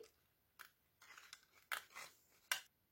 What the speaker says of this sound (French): on coupe cette petite languette